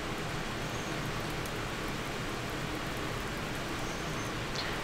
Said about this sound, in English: How's the weather? Oh, it's raining.